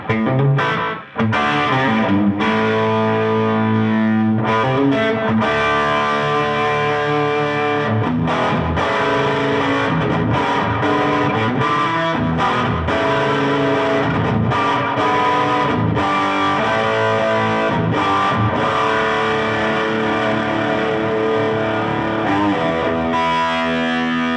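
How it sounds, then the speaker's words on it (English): Distorted electric guitar plays a riff with a short slapback echo repeating each note, reverb off, loud and continuous throughout. "When I like to do a little slap back, I'll usually turn the reverb off."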